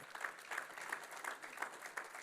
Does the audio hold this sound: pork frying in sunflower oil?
no